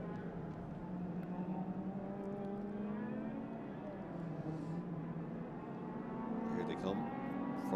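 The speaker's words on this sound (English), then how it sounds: "Big armful of opposite lock from Brian Sexton as he fires the little MX-5 around up over the curbs" Little Mazda MX-5 race car driven hard over the curbs with opposite lock at a historic racing festival, its engine droning steadily and rising in pitch, with a commentator talking over it throughout.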